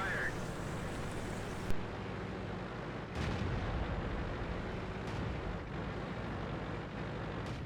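Tank cannon fire in World of Tanks on the Prokhorovka map, a few sharp distant booms over a steady low engine and battlefield rumble.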